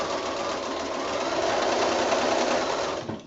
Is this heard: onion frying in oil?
no